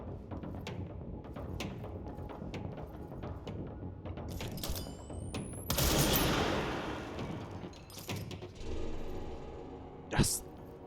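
Gunfire in the action game Control, with irregular shots and bursts under constant talk and game music, a louder volley around the middle and a sharp single shot near the end.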